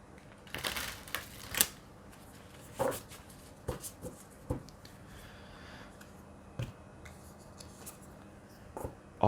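Tarot advice cards being shuffled in a quiet room, a run of soft papery flicks and sharper snaps landing in irregular clusters, close and fairly faint, with no talking.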